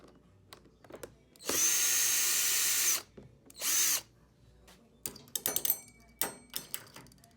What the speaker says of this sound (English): We got to put 1, 2, 3 Phillips screws out of there